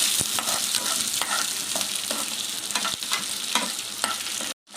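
Onion pieces frying in a pan for peanut chutney, a dense continuous sizzle with frequent crackles and stirring clicks, close and loud, cutting off abruptly at the end.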